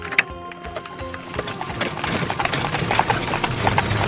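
A horse pulls a wagon, its hooves clip-clopping in a steady rhythm that grows denser and louder over a few seconds, close by, with a brief higher clatter near the start and no one speaking.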